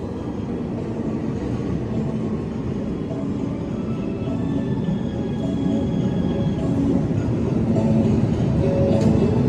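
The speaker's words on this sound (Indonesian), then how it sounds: "Jalur 2 masuk kereta api Argo Sindoro dari Semarang Tawang tujuan Gambir." An Argo Sindoro passenger train from Semarang Tawang rolls into track 2 at Cirebon station, a continuous rumbling rail noise with faint squeals that grows louder toward the end.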